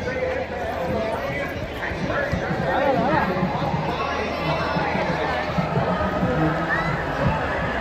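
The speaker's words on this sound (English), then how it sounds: "I've never heard the crowd so hype" A packed crowd at a Canada Day race in Winnipeg cheers and chatters in a steady, loud wash of voices, with hoofbeat-like clatter running under the hubbub throughout.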